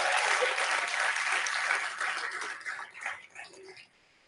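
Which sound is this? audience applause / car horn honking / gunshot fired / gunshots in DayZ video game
audience applause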